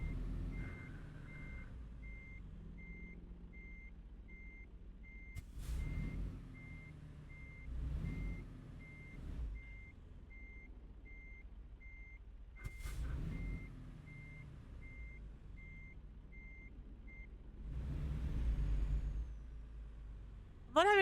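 A truck reversing alarm beeps steadily in an even, repeating pattern while a trailer is backed up, with engine rumble, brief air-brake hisses and a few low thumps underneath.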